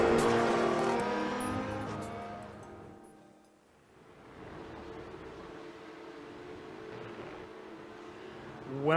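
Porsche Cup race cars lapping the Red Bull Ring in the iRacing simulator, engines droning and revving loudly, dipping briefly before a steady multi-car engine roar returns.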